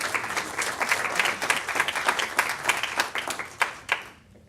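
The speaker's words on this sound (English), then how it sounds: "Round of applause for Lena." An audience at a tech meetup bursts into steady applause for several seconds, many hands clapping densely before tapering off at the end.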